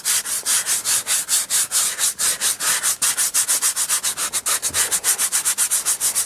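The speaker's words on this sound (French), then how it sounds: "L'opération du ponçage, ça va être simplement de remettre à nu, donc sans vernis, sans couleur, le volant." Sandpaper rubs back and forth on a car steering wheel to strip its varnish, a rapid even rhythm of close, loud scratchy strokes that repeats steadily throughout with no voices.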